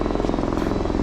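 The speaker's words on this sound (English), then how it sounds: "You can really hear the helicopters now." Helicopter rotor thudding in a steady rapid pulse overhead above Waimanu Valley on Hawaii's Big Island, loud and continuous throughout the short stretch.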